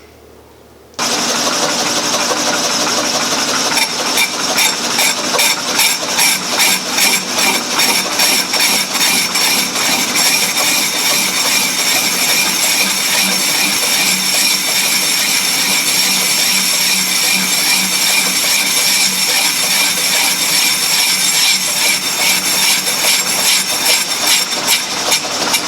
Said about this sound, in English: I have the lathe set to a low speed of about 140 RPM